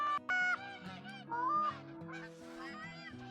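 Repeated Canada goose honks in a hunting video game over a layered musical backdrop, several calls in quick succession, clear and fairly close.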